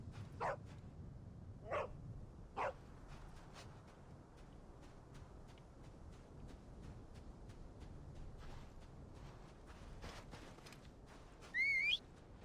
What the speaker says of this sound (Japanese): 犬でした。